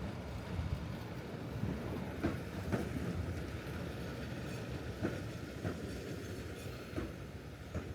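An Eizan Line train on Kyoto's mountain line near the Maple Tunnel rumbles steadily at a distance, with faint rhythmic clatter from the rails throughout.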